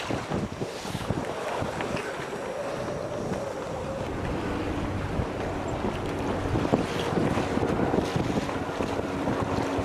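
Steady wind buffets the microphone aboard a cruise boat in the Pacific Northwest, a continuous loud roar with rushing water and waves underneath, no voices.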